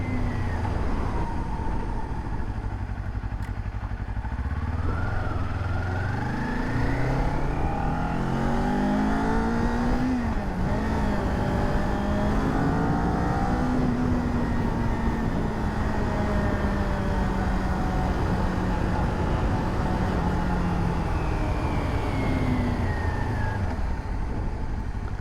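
A Kawasaki Ninja 400 motorcycle being ridden, its engine note rising and falling through gear changes over a steady roar of wind and road noise, continuous and close with no talking.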